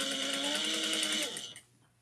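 A sewing machine topstitching a fabric wristlet, a steady fast mechanical whir that runs close and loud for about a second and a half and then winds down and stops, with no talking.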